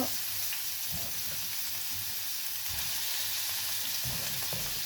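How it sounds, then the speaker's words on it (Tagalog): Onion and tomato sauté in a hot pan with oil, a steady loud sizzle and crackle throughout, with a few soft stirring scrapes, up close. "Gigisahin natin lahat ito guys."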